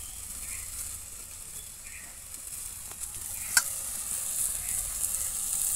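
Grated coconut and green chillies fry for kochu shak with a constant near sizzle. Occasional stirring scrapes sound through it, and one sharp clink stands out.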